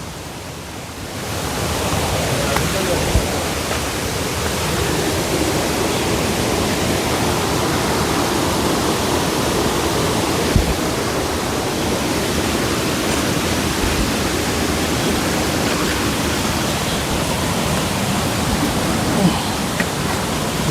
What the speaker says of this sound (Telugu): వాటర్ ఫాల్ ఇది